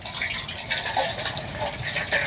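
Gobindobhog rice is rinsed by hand with light pressure, giving close, continuous sloshing and swirling water with soft splashes and drips, moderately loud and unbroken throughout.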